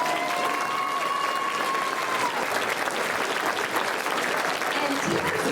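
Dense, continuous applause from the audience at a school spring band concert, steady and fairly close throughout, with a faint tone or voice briefly audible early on.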